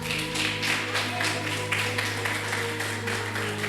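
Church congregation applauding during a Sunday service, steady rhythmic clapping from many hands layered over sustained organ or keyboard tones, fairly loud and continuous.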